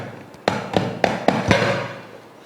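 A tray holding a slab of Mysore pak is tapped lightly five times in an even rhythm, each a short, close, dull knock with a slight ring over a quiet room.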